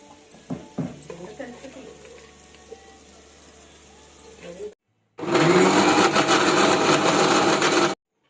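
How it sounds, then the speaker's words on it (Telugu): A kitchen mixer grinder whirs loudly and steadily for about three seconds as it blends raw mango pieces in its jar, following a stretch of quieter clatter and handling sounds. "ఇది మిక్సీ జార్లో తీసుకొని మిక్సీ పట్టుకుందాం"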